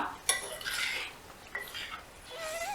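A spoon clinks and scrapes against a pan while stirring okra and onion curry with chopped coriander and green chillies, two distinct metallic strikes followed by softer scraping, close and without talking.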